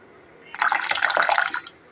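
Water poured into a pot of vada pulusu, a tangy South Indian lentil-fritter curry, making a steady splashing, trickling pour of about a second and a half that starts abruptly and fades out, close and fairly loud.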